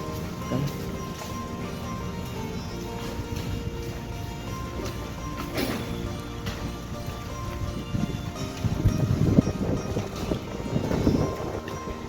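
Steady wind gusting across the microphone outdoors, a constant rushing roar with a few louder bursts toward the end.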